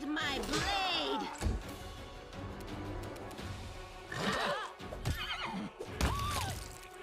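In the video game Pathfinder: Wrath of the Righteous, a horse whinnies several times with clip-clopping hooves and thuds, mixed with other game sounds and occasional talk.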